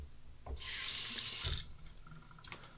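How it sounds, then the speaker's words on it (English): Water runs from a bathroom tap into a sink while a face is rinsed after a shave, a close, splashy gush broken by brief bursts and dips as hands move through the stream. "A final rinse to the face, warm and then cold water."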